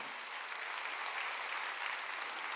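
A church congregation at a Wednesday worship service applauds in a soft, steady wash of many hands, continuous and fairly distant.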